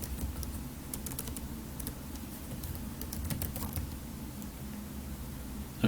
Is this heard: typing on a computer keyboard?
yes